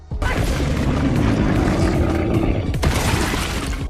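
A loud, sustained grenade explosion from the film Love and Monsters (2020) roars and rumbles, with a second crashing blast near the end; no speech.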